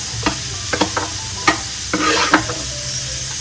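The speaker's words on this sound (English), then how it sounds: "sizzling sound." Onions and garlic sizzle and crackle steadily in a hot pan for Mexican-style rice, with a few sharp clinks and scrapes of stirring on top.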